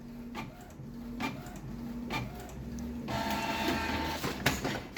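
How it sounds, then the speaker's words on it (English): A Canon G4410 inkjet printer runs a nozzle check, with repeated mechanical clicks and a low motor hum. Partway through, a higher whirring carriage movement joins in. "first of all you need to click on nozzle check, and it will start checking nozzle."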